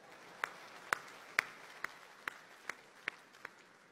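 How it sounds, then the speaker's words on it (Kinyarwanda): An audience claps in a steady rhythm, about eight sharp claps roughly half a second apart, moderately loud over a low crowd murmur. "mwiha amashyi muri beza we"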